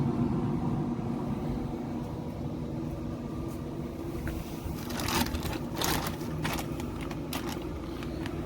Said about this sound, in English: You can hear the auger.